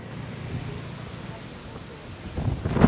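Strong gusts from Typhoon Opong batter trees in Northern Samar, a broad roaring rush that swells louder and rougher toward the end, with buffeting against the microphone.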